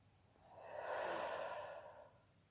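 One strong, long exhale of breath, close and breathy, swelling and fading over about two seconds in quiet surroundings.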